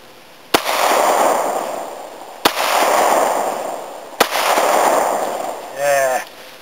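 Three loud, sharp reports from a Glock 23 pistol fired outdoors at a Labor Day shoot, spaced roughly two seconds apart, each followed by a long rolling echo, with a short burst of voice at the very end.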